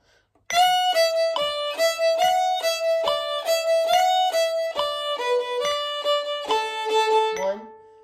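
Fiddle plays strains three and four of the tune Rock the Cradle Joe, a clear, close bowed melody of distinct repeated notes in a steady rhythm, ending with a short low note.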